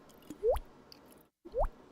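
Two synthetic water-drop blips from a Eurorack modular synthesizer, each a quick upward-sweeping plonk, spaced about a second apart and fairly close and clear.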